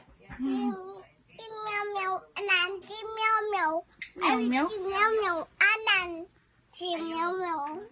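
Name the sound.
child imitating cat meow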